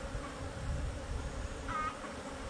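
Honey bees humming steadily in a hive, a close, even buzz that carries on without pause.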